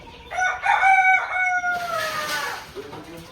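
A rooster crows once, loud and close, its long call rising then trailing off, with faint background noise afterward.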